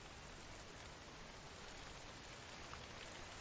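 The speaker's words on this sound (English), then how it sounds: "oh, guess what? It's raining." Rain pours steadily in the video game Infected, a dense, even hiss of falling drops that stays constant and fairly faint throughout.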